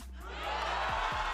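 A crowd at an esports watch party for a VCT Americas Valorant match cheers, swelling from a murmur into loud, sustained cheering with a few deeper shouts.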